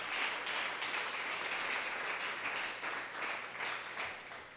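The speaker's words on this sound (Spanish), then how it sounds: "¿Cuántos aplauden el nombre del Eterno?" A church congregation applauds steadily at a Yom Kippur service, a dense wash of many hands clapping at even loudness throughout, fairly distant and reverberant, with no voices standing out.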